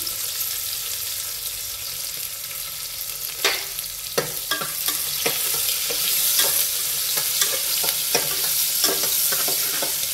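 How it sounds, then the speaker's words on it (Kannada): Onions frying in a pan for tomato rice bath, a steady bright sizzle of hot oil broken by repeated scraping and clinking as the pieces are stirred, close up and with no talking. "ಈರುಳ್ಳಿ ಚೆನ್ನಾಗಿ ಫ್ರೈ ಆಗಬೇಕು."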